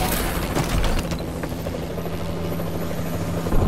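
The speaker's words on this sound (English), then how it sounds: "Friendly Warbird in the air." A Warbird aircraft in the Call of Duty: Advanced Warfare video game, heard as a loud continuous rotor-like thrum with a low droning hum, steady and close for the whole stretch.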